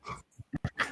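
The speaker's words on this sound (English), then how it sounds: "That was the dog." A dog makes a few short whimpering, growl-like noises close by indoors, in brief separate bursts amid quiet.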